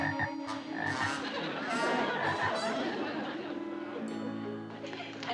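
A frog in a TV sitcom scene croaks in repeated loud bursts close by, with faint chatter in the background.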